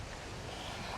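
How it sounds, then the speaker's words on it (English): Ocean surf washes and rumbles behind an outdoor yoga flow, a steady broadband roar of waves mixed with some wind noise on the microphone, with no voices. "You can probably hear the waves crashing in the background."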